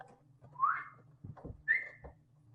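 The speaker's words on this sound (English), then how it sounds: "We're whistling for you." Two short rising whistles from people inside the old Washoe Club building, separated by a pause and some low thumps, with a faint steady hum beneath.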